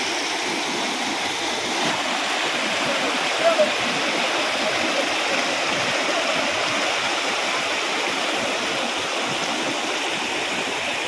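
Vadattupara Waterfalls near Kothamangalam roar in a steady, loud, unbroken rush of falling and flowing water that fills the whole span.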